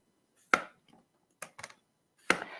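A knife chops cucumber on a cutting board in sharp, close, isolated strikes: one hit, a pair of lighter taps, then another firm chop, with quiet gaps between and no speech.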